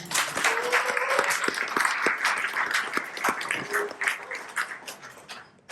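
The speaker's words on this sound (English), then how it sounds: "a round of applause, please." A pub audience at a politics talk in Fremantle gives a round of applause, a dense burst of clapping with scattered cheers or voices over it that tapers off after about five seconds.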